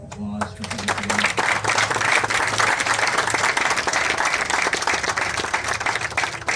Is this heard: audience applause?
yes